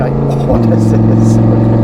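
Lamborghini Huracan Tecnica fitted with a Novitec exhaust, engine note loud and steady with a rising pitch step midway, sustained and near, with a voice over it.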